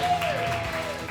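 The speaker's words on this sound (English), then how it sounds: "Give yourselves a round of applause" A live audience claps and cheers for a comedy talk show, producing a dense, steady wash of applause that holds at an even level for about a second with no clear gaps.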